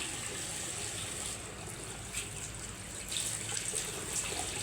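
Dusty air conditioner filter mesh rinsed under a running tap, a steady close hiss of flowing water with small splashy changes as the mesh is moved, no talking.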